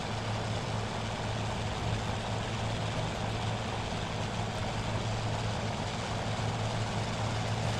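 Steady, loud drone of a Curtiss P-40F Warhawk World War II fighter in flight in Microsoft Flight Simulator, a continuous rumbling engine roar with no breaks.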